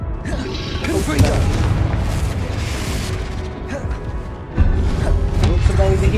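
A Confringo explosion spell from the Hogwarts Legacy video game detonates with a loud, booming burst that cuts in sharply near the end, set against a dense bed of ongoing game combat noise.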